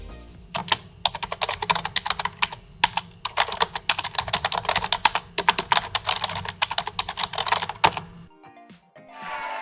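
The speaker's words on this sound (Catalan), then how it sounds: "És un teclat!" Rapid typing on a computer keyboard, a dense run of crisp clicks and key taps for several seconds, then it stops.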